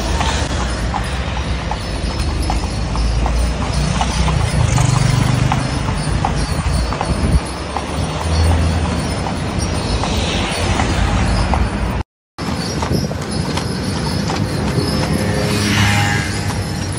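Horse hooves clip-clop steadily as an andong carriage is pulled along a street, the rhythmic knocks blending into continuous road and wheel rumble with a brief dropout near the end.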